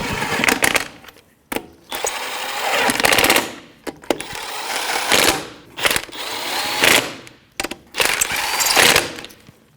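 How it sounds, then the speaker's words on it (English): A 19 mm socket on a power tool snugs lug nuts on a 2007-2017 Jeep Patriot 2.4L during a front brake job, several loud rattling bursts of a few seconds each with short pauses between. "Just hand start the lug nuts. That's a 19 millimeter socket. We're just going to snug it up before we torque it"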